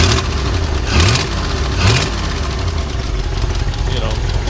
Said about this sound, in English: I love the sound of a little flathead.